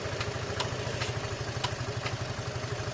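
A WK RT 125cc motorcycle's electric starter cranks in a fast, even, low chugging rhythm without the engine catching, with a few faint clicks over it.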